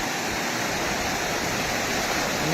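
A dense, steady roar of rushing floodwater after heavy rain fills the clip, loud and continuous with no pauses or voices.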